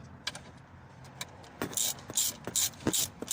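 Ratchet wrench clicking in several short bursts while tightening a brake caliper bolt during a brake pad, caliper and disc replacement, close and moderately loud, with a faint voice briefly in the background.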